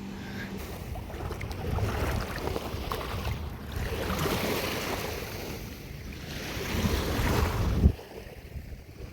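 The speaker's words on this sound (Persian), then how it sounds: "خیلی جالبه اینجا که آب میاد، هر موقع آب میاد موجش بالا اینجا" Sea waves wash in at the shore for the whole stretch, a broad, steady surge of rushing water mixed with wind buffeting the microphone, with no voices heard.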